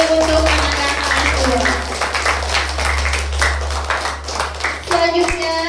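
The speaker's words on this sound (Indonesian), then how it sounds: "Yuk tepuk tangan sekali lagi untuk Ananda kelas" Applause and clapping for second-grade children after their song at a school Maulid Nabi celebration, steady crowd clapping over a constant low hum, with a sung tone and voices at the start and end.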